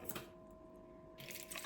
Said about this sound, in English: just to pour it through a sieve.